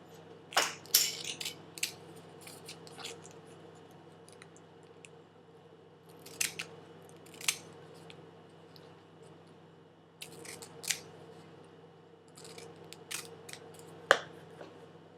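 Scissors snip around the edge of an adhesive-backed plastic sheet in quick, crisp cuts spaced by brief pauses, close but quiet over a faint steady hum.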